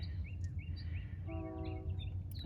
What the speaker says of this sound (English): Aside from the damn train we get every damn afternoon.